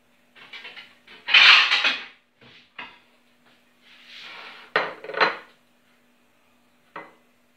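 Small round cakes made from leftover holiday cozonac are set onto a plate, giving close, crisp clinks and taps in short bursts with quiet gaps between, and no talking.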